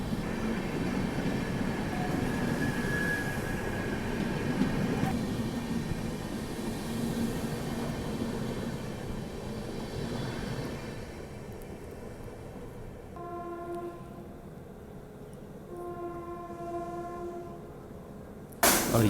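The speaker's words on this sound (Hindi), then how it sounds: "और ये ट्रेन तो शायद से ओवरटेक कर रही है अपने को।" A late-running passenger train overtakes on the adjacent track in India, its heavy rumble and clatter rolling steadily past up close, with a long two-tone horn blaring near the end.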